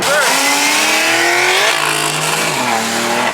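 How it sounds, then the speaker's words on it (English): A BMW M4 drifting on a rough surface, its supercharger whining in rising and falling tones over a loud, continuous engine roar with tire squeal, close up; a voice may be faintly audible. "You could hear that supercharger."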